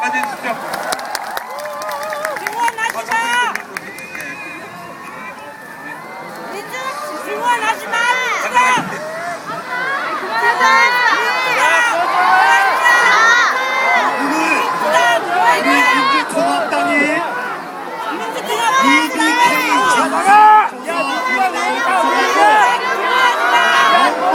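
Applause and cheering from a crowd at a farewell gathering for a politician, swelling into sustained clapping and shouts that carry on for a long stretch, with chatter and a voice over it.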